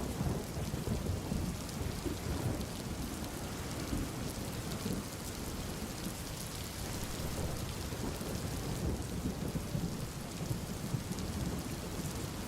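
Steady heavy rain pours down with rumbling thunder rolling underneath, a dense, continuous storm wash at even loudness throughout with no voices.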